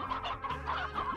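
Chickens in the Slime Rancher video game cluck loudly and continuously in a busy deluxe coop, several birds overlapping in a steady stream of calls with no talk.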